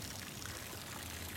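Fresh water poured into a backyard canal for a manatee, a steady, soft splashing stream that runs continuously and alone.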